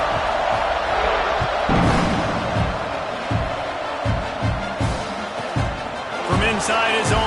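Football stadium crowd after a touchdown: a loud, continuous roar of thousands of fans with rhythmic thumps and swells, a voice talking over it.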